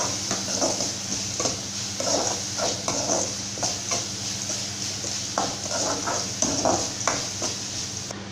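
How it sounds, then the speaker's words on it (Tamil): Onions with salt are sautéed in a pan under a soft, steady sizzle, with rhythmic bursts of spatula scraping and stirring that repeat every second or so, heard up close and without speech. "உப்பு ஆட் பண்ணிட்டு நல்லா இந்த மாதிரி வதக்கிக்கலாம்"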